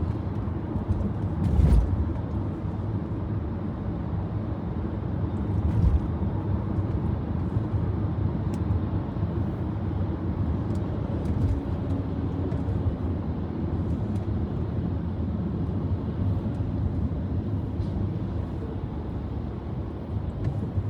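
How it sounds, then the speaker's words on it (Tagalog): Road traffic passing on a street, a steady low rumble of vehicles moving at a distance, with a few brief louder passes standing out against the continuous drone. "Smooth pa ang daloy ng traffic"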